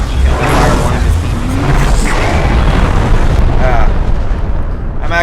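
Mech weapon fire and explosions from the MechAssault video game on the original Xbox, a loud, dense barrage of booming blasts and mechanical clatter filling the whole stretch with little letup.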